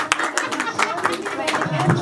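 An audience at a birthday celebration applauds with scattered clapping, moderately loud, under a person speaking.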